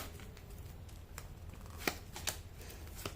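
Tarot cards are handled and counted out one at a time, giving soft papery slides and a few sharper flicks against a quiet background.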